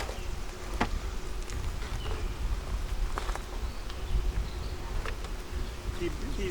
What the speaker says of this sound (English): These bees can come back